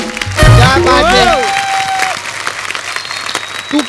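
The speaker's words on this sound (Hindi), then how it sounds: "एक बार बोल बच्चन फैमिली के लिए जोरदार तालियां हो जाए।" Studio audience at a comedy talk show breaking into loud applause as the guests are welcomed, clapping running throughout while a voice speaks and sings over the start.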